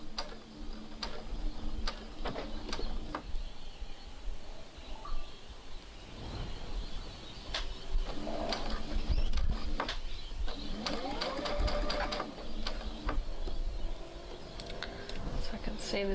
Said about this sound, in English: then pull out that pin and start stitching. And back stitch.